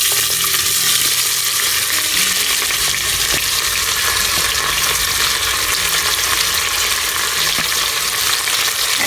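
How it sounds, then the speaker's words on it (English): Onions frying in heated oil for Shahi Mughlai mutton korma, a loud, dense, continuous sizzle with faint stirring clicks throughout and no speech. "Now oil is heated. Let's add onions."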